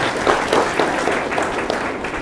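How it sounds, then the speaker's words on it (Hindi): An audience at a spiritual discourse breaks into applause, a dense, loud wash of clapping that carries steadily for a couple of seconds. "आप सब उसके लिए एक बार ताली तो बजा दें।"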